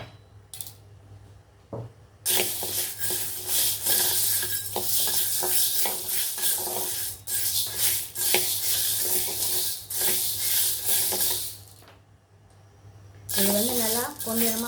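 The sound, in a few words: dry roasting green gram in a pan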